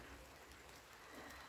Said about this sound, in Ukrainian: Ось так тихенько іде дощик.